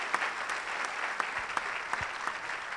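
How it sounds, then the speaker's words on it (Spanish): Church congregation clapping steadily throughout, a dense even patter of many hands with a few sharper claps standing out, fairly distant and moderate in level, with no talk over it. "Denle un aplauso fuerte a él, al Señor, por él."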